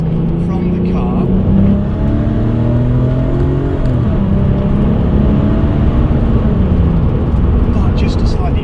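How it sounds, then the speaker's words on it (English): A Porsche 911 996 Turbo pulling with a steady engine drone and a rising turbo whoosh that swells, dips and builds again, with a voice running underneath. "So you do get a really nice sort of whoosh and progressive turbo noise from the car."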